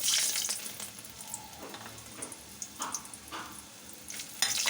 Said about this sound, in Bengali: প্রথমে একটু রসুন কুচি দিয়ে দেবো